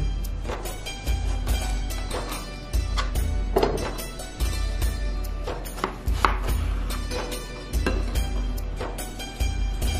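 Knife chopping fresh tomatoes into cubes for homemade ketchup, a steady series of close, loud, crisp cuts and board thunks with no talking.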